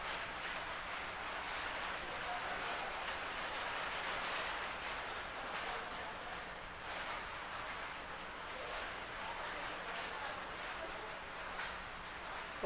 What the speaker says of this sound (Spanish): está lloviendo duro, está cayendo, parece granizo